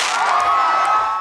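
A large crowd at an outdoor night concert in Uganda cheers and screams loudly, a dense, continuous roar with scattered shrill voices.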